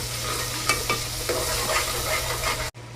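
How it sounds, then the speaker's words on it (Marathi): A spice paste of ground onion, tomato, ginger and garlic sizzles steadily in a pan, with a few soft stirring scrapes over the constant frying hiss before it cuts off abruptly. "आता मसाले चांगले परतून घेते."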